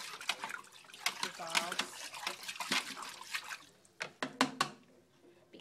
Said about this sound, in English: I'm just gonna agitate the water just a little bit just to make sure that the walking green